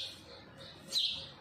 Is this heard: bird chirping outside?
yes